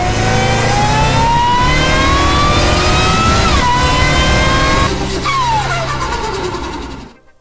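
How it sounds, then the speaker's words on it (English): A 1000+ hp twin-turbo Mustang accelerating hard, its engine note climbing steadily through the gears with a brief shift, loud and close throughout before cutting off at the end. "she's gonna take a ride in the 1000+ hp Mustang"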